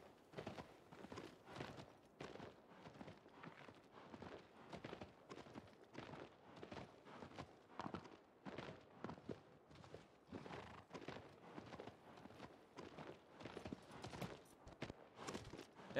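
Horse hooves galloping in Shadow of the Colossus, a fast, steady run of rhythmic thudding hoofbeats repeating throughout, fairly quiet and uninterrupted.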